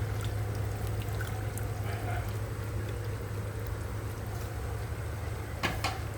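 Mustard oil poured into raw mango pickle mixed with panch phoron, a continuous soft trickling hiss over a low steady hum, with a couple of faint clinks and no voice.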